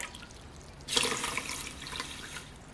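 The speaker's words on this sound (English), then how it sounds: "I'm going to put 2 of these full of water into the rice cooker." Water pours from a juice glass into a Dash Mini rice cooker holding wild rice, a sudden splashing gush that tapers into a softer trickle, close and without voices.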